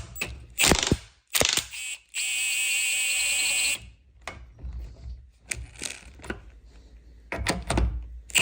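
A 21mm spanner works on the rusty front strut of a Peugeot 308, with sharp metallic clanks and ratcheting clicks in bursts, plus a sustained ringing metallic tone in between.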